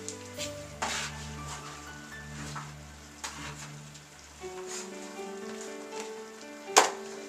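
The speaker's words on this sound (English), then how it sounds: "Now I'm going to add my vegetables, and just add it right to your pot." Vegetables go into a hot pot of steak and sizzle steadily, a crackling hiss with occasional louder pops and a sharp clatter near the end, while a low musical hum plays underneath and nobody speaks.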